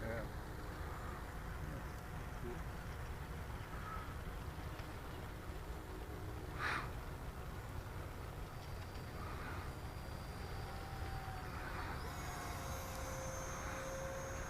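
A Freewing Rebel V2 RC plane on a 4S battery flies somewhere off at a distance, its faint electric whine drifting under steady background noise with one brief louder swell partway through.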